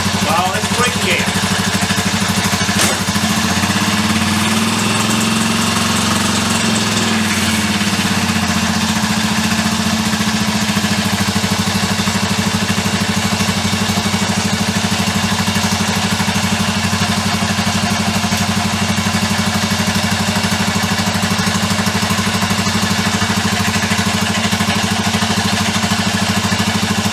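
A BSA C15T motorcycle engine idles with a steady, loud, close throb and light mechanical clatter, running continuously throughout while a voice speaks briefly over it.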